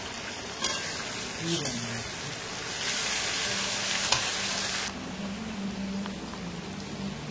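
Fried rice stirred with soy sauce in a hot frying pan, a steady close sizzle with scraping spatula strokes throughout, loud and continuous, with no speech.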